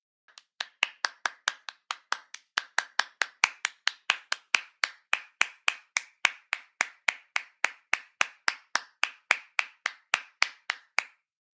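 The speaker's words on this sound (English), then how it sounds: "When the song ended, she clapped enthusiastically." Steady, enthusiastic hand clapping from one person, around thirty crisp, evenly spaced claps at a brisk pace, close and clear with no voices over it.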